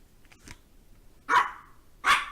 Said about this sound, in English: She's gonna keep barking.